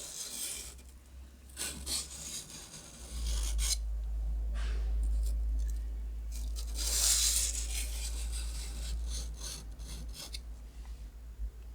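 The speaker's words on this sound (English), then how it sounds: "Just sharpen your knife." A knife blade scrapes across a sharpening stone in long, repeated rasping strokes, close and steady, over a constant low hum, with no one speaking.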